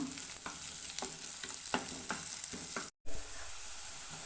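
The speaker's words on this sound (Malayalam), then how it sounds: "പച്ചമുളക് ഇട്ട് കൊടുക്കുന്നുണ്ട് ഇത് നല്ലോണം ഒന്ന് വഴറ്റിയെടുക്കണം" Green chillies sauté in a pan for a Kerala mango fish curry: a steady close sizzle with rhythmic spatula strokes stirring every half second or so, briefly cut off by a short silent gap, with no talking.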